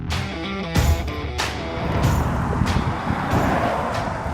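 A Mercedes-Benz GLE 4MATIC SUV drives along a Dolomites mountain road, a steady engine and road rumble with broadband whoosh and a few sharp transient bumps along the way, fairly close and continuous.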